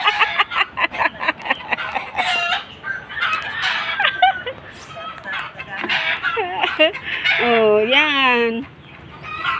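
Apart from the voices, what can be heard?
chickens clucking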